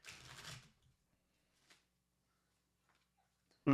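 A brand-new deck of playing cards being shuffled in one quick riffling burst at the start, followed by near silence with a few faint ticks and a sharp knock at the end.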